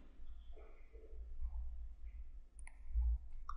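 A computer mouse clicking during setup of Windows Admin Center, a few faint, sharp single clicks over a quiet low hum.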